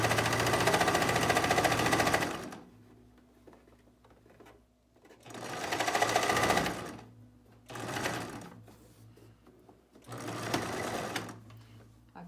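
A sewing machine runs a zigzag stitch through folded fabric in four loud, close bursts of rapid mechanical chatter, separated by short quieter pauses.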